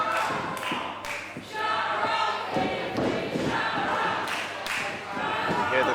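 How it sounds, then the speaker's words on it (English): Crowd at a women's wrestling show chanting a wrestler's name, rhythmic shouted chant with repeated thuds and crowd noise, a commentator's voice running over the top. "You hear the crowd chanting Fifi, shut her up."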